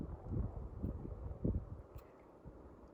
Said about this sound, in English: It's really windy here